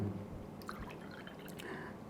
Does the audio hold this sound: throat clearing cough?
no